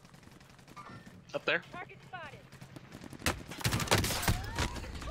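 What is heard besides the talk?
gunshots in a video game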